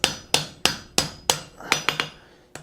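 Hammer forging a square bar on an anvil: about nine sharp, ringing metallic strikes in a steady, quick rhythm, close and distinct, with a brief pause before the last blow.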